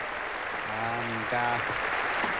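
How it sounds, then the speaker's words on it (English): Cricket crowd applauding a fifty partnership at a 1981 Ashes Test match in England, a distant, steady wash of clapping with a commentator's voice speaking over it. "big applause for the 50 partnership"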